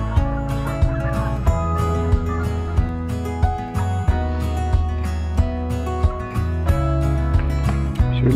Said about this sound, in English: So many swans.